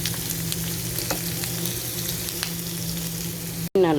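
Chopped onions frying in a hot pan for sautéed vegetables, a steady crackling sizzle with a low background hum, then a sudden cut and a brief scrape near the end.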